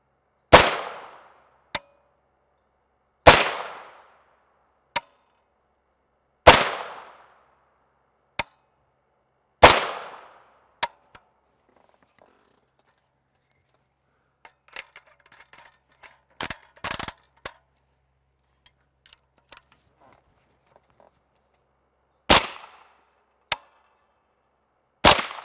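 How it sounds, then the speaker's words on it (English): Rifle shots from a 16-inch .300 Blackout carbine firing 220-grain subsonic TMJ ammunition through a single-port muzzle brake: four sharp, evenly spaced reports close by, then scattered small clicks and handling noises, followed by two more shots near the end. "I don't know a lot of people who shoot subsonic 300 Blackout out of a 16 inch barrel"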